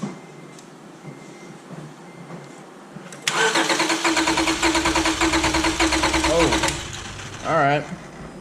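A 2005 Acura TL engine cranks over with ignition disabled, a loud steady churning that starts abruptly, runs about three seconds and stops without firing, after quiet background and before a short burst of voices.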